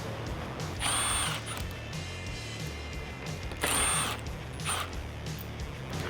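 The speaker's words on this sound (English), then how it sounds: "I'm gonna use an impact gun" Impact gun spinning off 7mm splitter bolts on a 2013-2014 Mustang chin spoiler on a lift, two short loud whirring bursts separated by a few seconds of quiet shop background.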